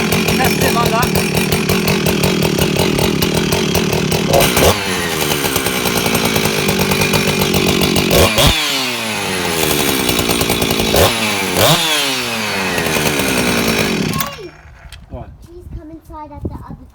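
Husqvarna 357xp chainsaw with a new exhaust after a full rebuild, running loud and close with repeated revving surges before it cuts to idle and fades at the end.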